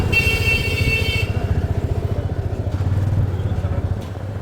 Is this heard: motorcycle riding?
yes